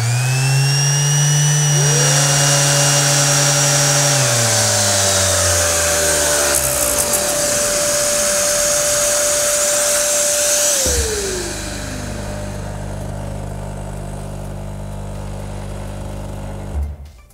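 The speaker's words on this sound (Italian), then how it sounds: "azionato l'elettroutensile a distanza di qualche secondo si azionerà il motore dell'aspirapolvere" Lavor Pro Worker M professional vacuum cleaner motor running loud and steady with a whining pitch, which rises, then sweeps down and drops to a lower hum before a brief bump at the end.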